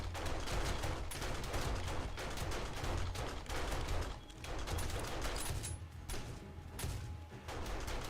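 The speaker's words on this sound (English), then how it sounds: "Fucking shotguns going off." Shotguns blasting nonstop during a horde night in the video game 7 Days to Die, with dense, overlapping shots in a loud, steady barrage and no pause.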